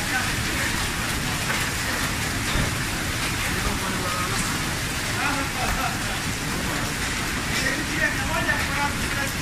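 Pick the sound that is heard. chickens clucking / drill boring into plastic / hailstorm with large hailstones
hailstorm with large hailstones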